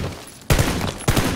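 Two sharp bursts of rapid automatic gunfire in PUBG, loud and close, each a quick cluster of shots with a short pause between them.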